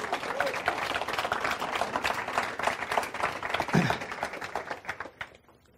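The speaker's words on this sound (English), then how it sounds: "give him another round of applause" Steady applause from an audience, dense clapping that continues for several seconds before tapering off at the end.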